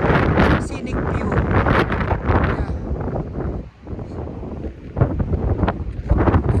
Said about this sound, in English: the wind is really, really, really